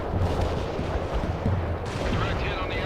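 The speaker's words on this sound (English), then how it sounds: "Zulu 9 are firing mortars at the target coordinates." Mortar and artillery fire booms in World in Conflict, a dense rumble of repeated low blasts and crackling shots layered throughout, with radio-style voice chatter running underneath.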